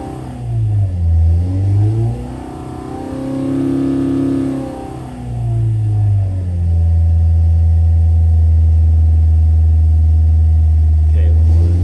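Hillman Imp 1150 race engine on a dyno with a megaphone exhaust, loud and close, sweeping up and down in revs for several seconds before settling into a steady, deep, heavy drone.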